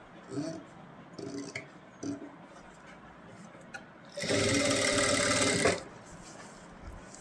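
Sewing machine running a steady burst of stitching for about a second and a half while sewing a band collar for a kurti, coming after a few soft handling sounds and light talk.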